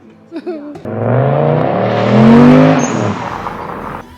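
A turbocharged BMW E34 540 pulls away at a car meet in Łódź, its engine note rising into a loud, swelling drive-off that peaks mid-clip and then eases as the car moves off, with no talk over it.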